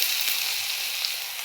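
Potatoes fry in a pan for a saag chorchori, producing a steady, close, uniform sizzle with no speech over it.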